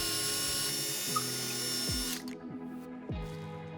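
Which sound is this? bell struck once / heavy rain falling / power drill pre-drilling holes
power drill pre-drilling holes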